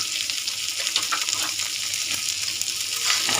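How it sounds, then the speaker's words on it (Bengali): Beef sizzling hard in a hot pan with butter and chili sauce, a dense steady crackle of frying that stays loud and close throughout, with no voices. "এখন আমি একটু বাটার দিচ্ছি"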